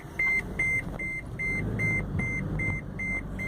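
A car seatbelt warning chime beeps in a steady slow rhythm, about eight evenly spaced tones, over a low hum of the engine and road inside the cabin.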